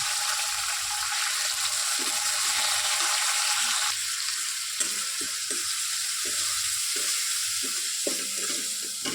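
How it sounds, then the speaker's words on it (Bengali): Spices and ginger paste fried in oil with a splash of water, a constant bright sizzle under repeated soft scraping stirs of a spatula, close and steady throughout. "দেখুন আমি মশলাটা দিয়ে দিলাম দিয়ে আমি একটু কষিয়ে নেব"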